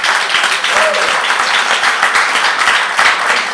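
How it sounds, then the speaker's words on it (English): Crowd at a Saturday community rally applauding steadily and loudly, a dense wash of clapping and cheering that holds through the whole stretch with no speech on top. "You can clap for that."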